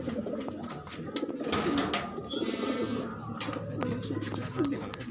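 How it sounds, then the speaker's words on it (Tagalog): Tippler pigeons cooing in a loft, soft repeated low coos from several birds close by, with rustling, wing movement and faint background noise. "Yung mga tipler natin kalapatids."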